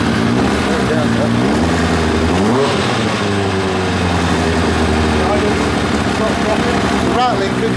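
Engine of a 1990 Kawasaki ZZR1100 motorcycle running loud and close, with a steady idle and a couple of rising revs. A rattle is mixed into the drone, and voices talk over it.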